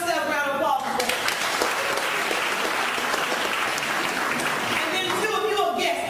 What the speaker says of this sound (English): So if you are a distributor, give yourself a round of applause.